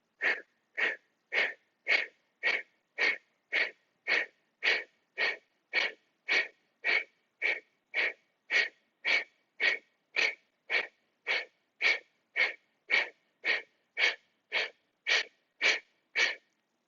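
Forceful, sharp nasal exhales from a hatha yoga breathing exercise repeat in a steady, even rhythm, about two per second and roughly thirty in all, close and loud with silence between each puff.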